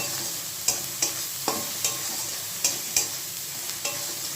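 Spice mix for doi begun fries in a pan with a constant loud sizzle, punctuated by regular sharp scrapes and taps of a stirring spoon roughly every half second, close and without speech.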